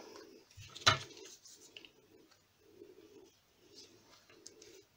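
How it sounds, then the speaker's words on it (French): Pet pigeons or doves coo indoors in a soft, repeated low rhythm, with a brief sharp scratch or tap near the start. "mes oiseaux"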